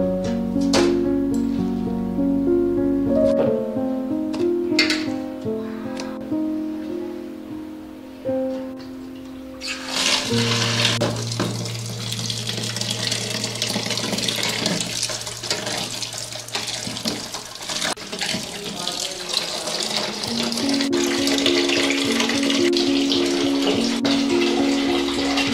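Chopped mutton lungs and fat are rinsed under running water, first with clinking and handling sounds, then a steady gush of tap water splashing into a basin, close and continuous with no talking.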